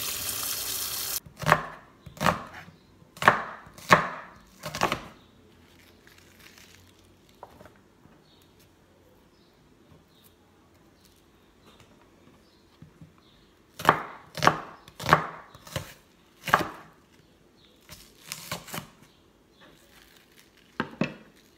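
Knife chopping vegetables on a cutting board, two quick bursts of several sharp, evenly spaced chops separated by a long quiet stretch, close and clear with no talking.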